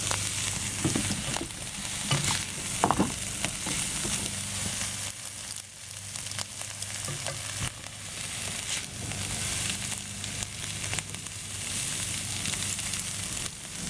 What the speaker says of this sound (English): When you're cooking the Chinese sausage, the fried rice